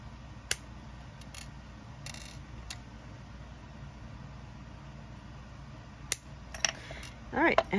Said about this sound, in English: I'm going to grab some jewelry cutters and cut apart these bones.